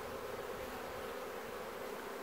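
Honeybees at an open hive drone in a dense, continuous buzz while a frame is lifted out, the swarm sound close and steady with no voices.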